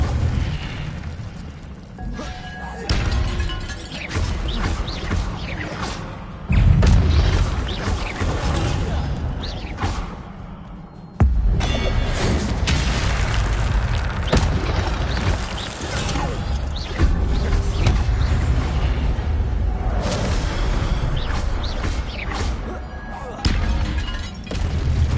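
Repeated Incendio fire-spell blasts in Hogwarts Legacy on PS5 come as loud bursts, booms and crashes in the middle of busy combat noise, with a heavy impact around the midpoint.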